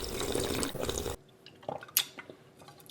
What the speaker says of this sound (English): I decided to make a glass full of lemonade with some water.